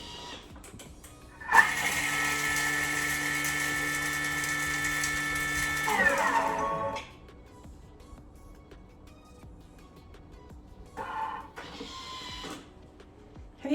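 A food processor whirs loudly, chopping sage leaves for broccoli soup with sage oil, running steadily for several seconds then stopping, followed by a couple of short pulses.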